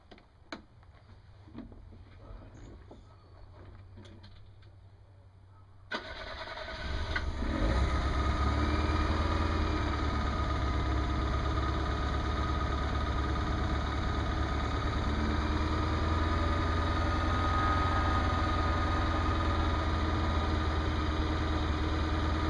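A Fiat car engine starts after a Seafoam treatment: quiet ticking and faint noises, then a sudden crank and catch around six seconds, settling into a loud, steady, rough idle that fills the rest of the clip.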